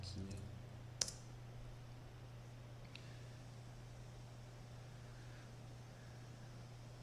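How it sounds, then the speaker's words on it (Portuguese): A computer mouse gives one sharp click, then a fainter one a couple of seconds later, set against a low electrical hum in a quiet room. "Você clica nessa opção."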